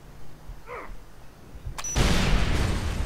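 In Far Cry 3, a sudden blast goes off after a faint tone, then rolls into a loud, sustained roar of rumbling noise that fills the rest of the moment.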